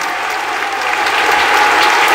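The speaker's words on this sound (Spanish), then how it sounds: "También mi gratitud a la directora Mónica, un fuerte aplauso por su brillante dirección del coro." An audience in a church sanctuary applauds after a children's choir concert, dense steady clapping that swells slightly, close and without talk.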